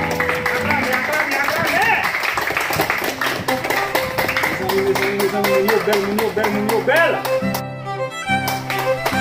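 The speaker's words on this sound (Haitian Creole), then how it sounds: "applaudissez l'église, applaudissez fort." A church congregation claps in rhythm, sharp repeated claps under loud singing or preaching with music.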